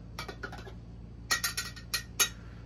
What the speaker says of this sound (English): So I'm gonna give it a little bit of a stir